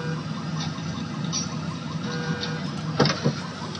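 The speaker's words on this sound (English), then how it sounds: "Yeah, that car alarm wasn't on yesterday." A steady car alarm tone drones on in the background on a movie set at Universal Studios, with a couple of louder clunks near the end.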